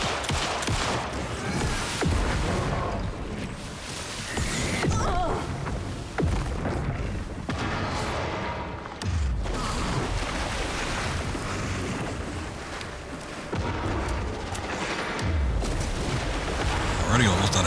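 Handgun shots ring out in Alan Wake II, with several sharp reports spaced apart over a thick, windy, surging ambience that fills the background.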